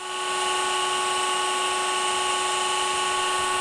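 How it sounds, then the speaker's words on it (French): A stone-cutting saw in a stonemason's workshop, its blade fixed while the table rises, gives a steady, loud, high whine with sustained tones and no break. "Mais là, c'est la table qui monte, la scie qui ne bouge pas."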